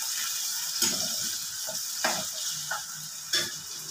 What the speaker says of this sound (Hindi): पियाज को भल भाव तेल में मिसई नवा।